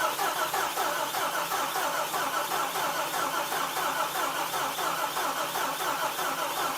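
Engine of a boosted OBS vehicle cranking over during a compression test, a steady rapid rhythmic churning of the starter turning the motor, loud and close, running continuously without catching, no voices.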